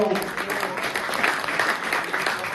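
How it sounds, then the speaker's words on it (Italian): An audience at an accordionists' gathering in Friuli Venezia Giulia applauds accordionist Dino Orlando, steady close clapping under a speaking voice. "un bel applauso"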